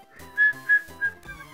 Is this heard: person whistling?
yes